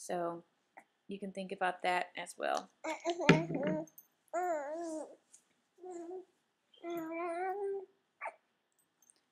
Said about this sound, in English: Sorry about the baby sounds in the background